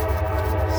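Passing train sounding its horn, a sustained tonal blare over a low rumble, heard briefly and fairly loud with no talk.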